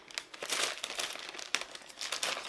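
A plastic bag holding gemstones and beads for crafts and jewelry is handled close up, giving dense crinkling and rustling in repeated bursts with a sharp crackle partway through.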